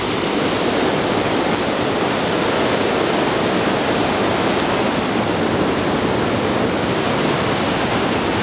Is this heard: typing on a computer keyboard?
no